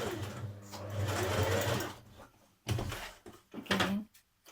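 A sewing machine runs steadily, stitching a jumpsuit seam at a gradual angle, a continuous close motor hum for about two seconds, then stops, followed by a few short bursts and handling clatter.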